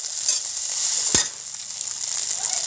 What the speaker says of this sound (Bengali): ভালো করে নেড়ে চেড়ে ভাজার পরে ঝুরি ভাজাও করে নেব।